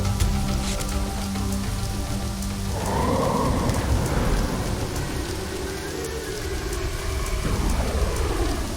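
Steady rain pours in the game Soul Reaver 2, with low rolling thunder swelling through the middle of the stretch, loud and continuous throughout.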